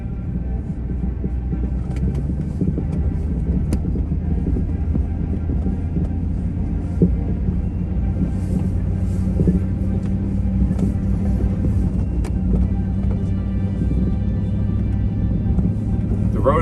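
A car drives down a snowy mountain road in a blizzard, its engine and tyres making a steady, loud, low rumble throughout while a person talks over it.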